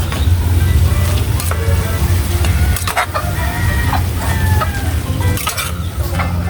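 Fish and vegetables sizzle loudly in a frying pan while being stirred, with steady frying hiss, scattered scraping clicks and a low background hum throughout, with no talking.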